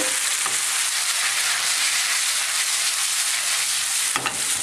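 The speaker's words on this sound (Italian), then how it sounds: "Facciamo saltare un attimino gli spaghetti insieme all'aglio, l'olio e il peperoncino." Spaghetti tossed in a pan with garlic, oil and chili sizzles loudly and steadily, a dense continuous frying hiss with brief stirring scrapes near the start and end, no voices.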